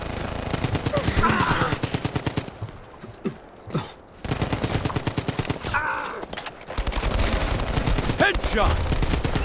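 M1941 LMG light machine gun in the video game Brothers in Arms 3, firing long loud rapid bursts with brief pauses between strings, plus a few scattered single reports.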